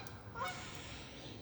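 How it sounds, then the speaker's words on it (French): A single faint goose honk from a distance, brief and clear over quiet background noise. "Les petites oies qui se promènent."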